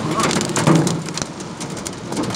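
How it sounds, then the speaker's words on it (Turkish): Hazelnut-sized hail and heavy rain pour down in Silivri, a dense, loud, continuous hiss and clatter of impacts with a few sharper hits throughout. "Fındık büyüklüğünde dolular yağıyor."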